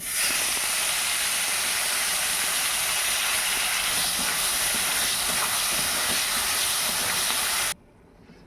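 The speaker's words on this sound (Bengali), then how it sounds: "একটু মাখিয়ে নিয়ে এবার আমি এটা তেলের মধ্যে ছেড়ে দেব" Mutton fat rubbed with salt and turmeric is dropped into hot oil and fries with a loud, continuous sizzling hiss that holds steady for several seconds, then cuts off abruptly near the end.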